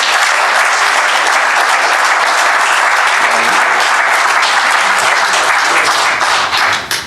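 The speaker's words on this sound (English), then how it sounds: "we can just have a round of applause for our presenters today" A conference audience applauds presenters in a loud, dense burst of clapping that fills the room and fades at the very end.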